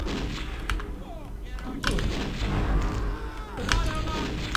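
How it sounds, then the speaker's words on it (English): Flare gun alt fire in the video game Blood: Fresh Supply lets off repeated booming shots under continuous talking, with heavy thuds, game noise and a low rumble throughout. "you have an alt fire mode where you can shoot more rounds of these flares"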